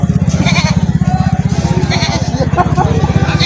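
Goats bleating at a livestock market, several calls over a steady rhythmic motor or engine rumble, with people talking nearby.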